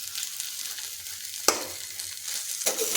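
Onion greens fry in a pan, a steady hiss of sizzling broken by two sharp scraping stirs, close and moderately loud with no talking.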